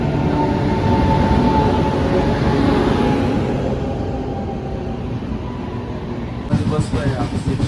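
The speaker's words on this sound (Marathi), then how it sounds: "मिनटात येणार बघा ट्रेन आपली साईनगर शिर्डी." Sainagar Shirdi train pulling into a station, a loud continuous rumble and rolling wheel noise close by that eases slightly, with a steady high whine above it and a burst of clatter near the end.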